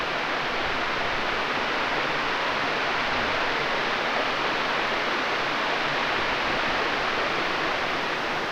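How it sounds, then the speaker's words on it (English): Water pours over a small pond dam in a Massachusetts state forest, a steady broadband rushing roar that stays even and close for the whole stretch with no voices. "This is a nice little area here with the waterfall, or at least the dam anyway, for the pond up there."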